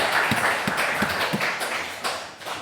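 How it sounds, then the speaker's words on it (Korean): Church congregation clapping during a Korean Sunday worship service, a short burst of rhythmic, fairly close applause with distinct individual claps. "우리 하나님께 감사와 영광의 박수 올려드리겠습니다"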